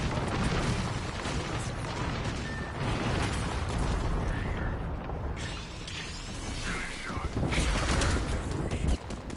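Bangalore's smoke launcher is fired in Apex Legends, a dense roaring, crackling burst rolling into a sustained loud hiss of smoke amid thumping gunfire and game effects, with voice lines over it.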